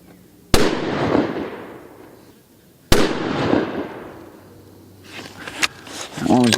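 Two loud, sharp rifle shots from a CVA Cascade chambered in 7mm PRC, each cracking suddenly and trailing off in a long outdoor echo a couple of seconds apart, followed by faint handling clicks.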